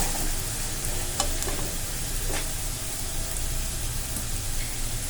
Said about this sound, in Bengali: তো এবার দেখো আমি ভালো করে মিশিয়ে নেব আর ফ্লেমটাকে মিডিয়াম ফ্লেমে করে রাখলাম।